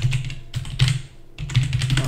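Quick bursts of keystrokes on a cheap temporary backup computer keyboard, clattering close up with brief pauses between runs.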